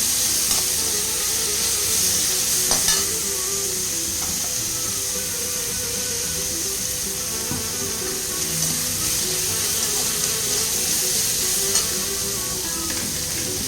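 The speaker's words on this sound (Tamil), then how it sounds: "மல்லி அடுப்பில் போட்டுக்கலாம். நல்லா வணங்கட்டும்." Coriander seeds being dry-roasted in a pan on the stove for idli sambar, a continuous close sizzle with occasional stirring scrapes and crackles, steady throughout without any talk.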